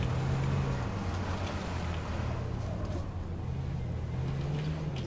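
A vehicle drives in the survival shooter H1Z1, its engine a steady low rumble and drone that carries through the whole stretch with no talk over it.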